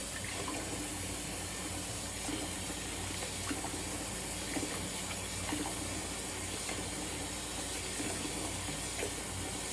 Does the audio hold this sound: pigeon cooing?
no